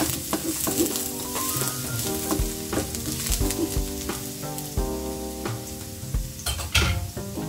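Garlic sizzles loudly and steadily in a frying pan for an egg curry, with frequent scraping stirs and metallic clinks of a utensil on the pan, close up with no talking.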